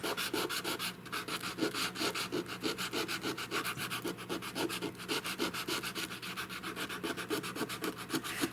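Steady back-and-forth sanding on old heart pine, a rhythmic rough rasp repeating about twice a second, close and continuous with no voices.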